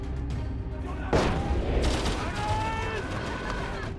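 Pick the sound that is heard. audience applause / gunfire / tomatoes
gunfire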